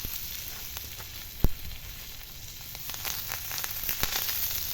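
Fish sizzles in hot oil in a pan, a steady crackling hiss with scattered pops and one sharp tap, close and moderately loud with no talking.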